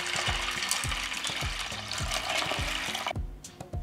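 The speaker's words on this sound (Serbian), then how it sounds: "Zatim u šerpu sipam vodu da prekrije pasulj" Water pours into a pot (šerpa) holding half a kilogram of white beans, making a steady close rushing splash with regular ticking clicks underneath; the pour stops abruptly near the end.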